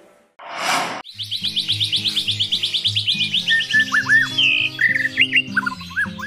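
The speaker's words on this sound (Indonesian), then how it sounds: "Merdu sekali suara burung murai batu ini." A white-rumped shama (murai batu) sings loudly and close, a rapid series of rhythmic whistled and chattering phrases with sweeping notes, preceded by a brief harsh burst.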